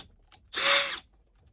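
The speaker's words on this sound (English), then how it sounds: "So now we're just going to drill one hole." Power drill boring a single hole in a Sprinter van, one short whirring burst of about half a second, close and isolated, with a faint tap just before it.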